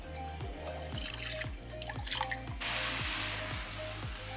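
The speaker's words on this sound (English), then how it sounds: "We're gonna add our half a cup of milk." Half a cup of milk poured into chai tea, a soft trickling stream that ends in a brief burst of brighter liquid noise, over a regular low mechanical thumping pulse.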